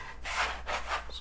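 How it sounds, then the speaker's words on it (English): A dough scraper drags across a table, lifting shaggy, stuck pasta dough for green fettuccini in a few close, rough scraping strokes. "little stuck to the table. Just gonna take my dough scraper"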